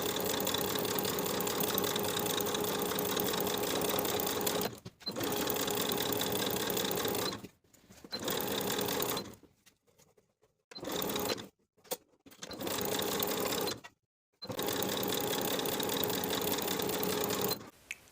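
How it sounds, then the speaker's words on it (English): A sewing machine understitches the seam allowance to the lining around a garment neckline with an eighth-inch seam, running in steady loud bursts separated by several short pauses, with no talking. "we're going to understitch the neckline by separating the main and lining pieces and sewing the seam allowance to the lining"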